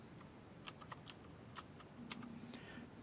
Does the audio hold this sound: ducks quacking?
no